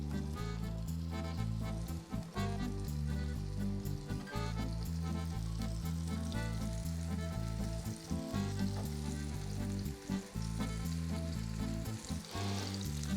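Fresh herbs, mint among them, frying in oil in a hot pan while making Greek desserts. A loud, steady sizzle runs unbroken from start to finish, with a tonal hum running underneath.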